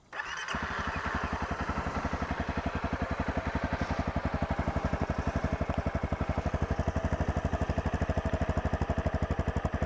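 A 2016 Honda CRF250L single-cylinder motorcycle idles steadily after starting, its exhaust giving a rapid, even, loud thumping pulse held throughout at close range.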